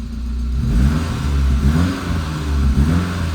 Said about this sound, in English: I'm revving it a little bit to keep it alive.